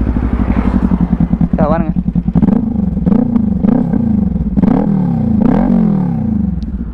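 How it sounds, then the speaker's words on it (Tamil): Modified Kawasaki Ninja 400 revving with an aftermarket exhaust, loud and close: a steady idle broken by repeated sharp throttle blips that rise and fall, with a brief voice at the start. "க்ரீன் கலரு அண்ட் எக்ஸாஸ்ட் தாங்க அல்டிமேட்டாக இருக்கும். சவுண்டு கேட்போம்"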